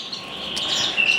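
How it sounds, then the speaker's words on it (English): Cock birds chirping in a birdroom of show birds, a short burst of bright high tweets close by with faint background twittering. "cockbirds all flying about, hens."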